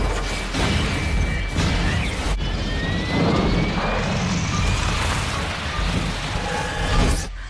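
A passenger jet takes off in the film Final Destination, with a loud, steady roar of jet engines and rumbling that fills the whole scene and swells slightly near the end.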